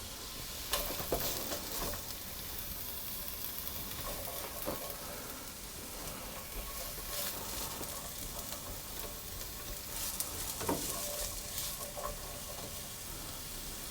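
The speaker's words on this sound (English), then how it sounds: "drop my onions in, and I'm going to cook them on a low heat for about a minute" Chopped onions frying gently in a pan over low heat for a cheese and onion pie filling, a steady soft sizzle with faint crackles throughout, close and continuous with no voices.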